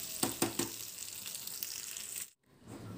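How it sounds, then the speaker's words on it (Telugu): Chicken pieces deep fry in hot oil in a kadai, giving a quiet, steady sizzle with a few sharp crackles near the start and a brief drop to near silence before the frying resumes. "ఇప్పుడు కడాయిను స్టవ్ మీద నుండి తీసేసి ఈ ముక్కలను డీప్ ఫ్రై చేసుకోవాలి."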